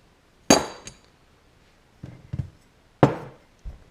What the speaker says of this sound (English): Then the carbine length buffer tube should just unscrew.